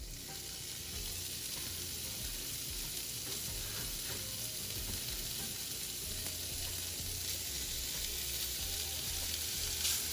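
Bacon sizzling and crackling loudly in a dry pan in its own fat, a dense, continuous frying hiss with scattered pops and a low hum underneath, no voices.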